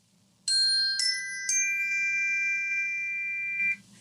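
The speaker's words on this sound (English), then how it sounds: "This ding dong ding simply just rings to say that the exercise has been completed." Three bright electronic chime tones ring out in a rising ding-dong-ding sequence, the last note sustaining for a few seconds before cutting off, marking the end of a breathwork exercise.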